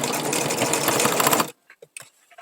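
A sewing machine runs in one fast continuous burst while stitching a fabric-scrap rug and backstitching, then stops abruptly, leaving a few faint clicks and handling sounds.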